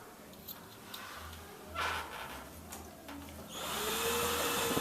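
A power drill drives screws into an interior door header during a door installation in an exterior brick wall, a steady low whir with short bursts and rising intensity toward the end, close and alone.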